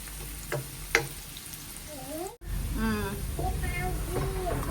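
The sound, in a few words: garlic frying in a pan until golden brown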